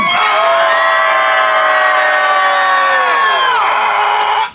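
A loud sustained shout from the audience at a juggling show, many voices yelling together in one long held tone that cuts off abruptly near the end.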